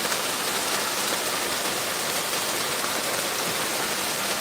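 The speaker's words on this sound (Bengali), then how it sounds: "আজকে এই দেখুন প্রচণ্ড বিক্ষিপ্ত পরিমাণে বৃষ্টি হচ্ছে" Steady, dense rain pours onto a lake at a village in Paharpur, a constant close hiss of drops striking water with no breaks and no voices.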